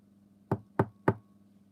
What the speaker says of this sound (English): As Gary heard knocking